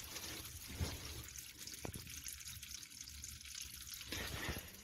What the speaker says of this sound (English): And it's draining pretty quickly.